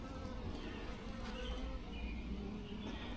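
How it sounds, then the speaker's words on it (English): Honey bees in an opened hive buzz as a dense, continuous drone, steady and fairly quiet, with no voices. "There's still a fair amount of bees in here"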